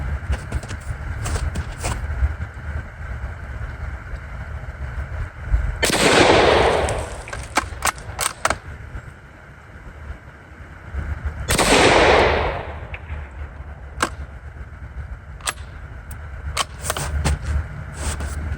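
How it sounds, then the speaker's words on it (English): A Savage Model 4M Deluxe rifle fires two loud separate shots several seconds apart, each a sharp burst with a trailing echo, between quieter mechanical handling noises. "Everything in the gun still fires properly, works the way it should."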